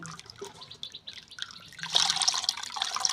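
Food is washed with water for a vegetarian chana paneer dish, splashing and trickling close by, growing louder and fuller toward the end with dripping sounds.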